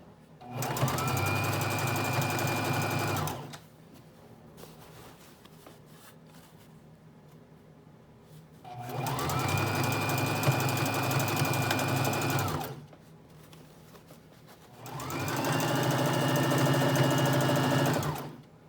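A sewing machine stitching fringe onto a dress, running in three loud, steady bursts of a few seconds each, separated by quiet pauses, close by with no talking.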